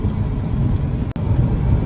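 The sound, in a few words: heavy rain while driving on a freeway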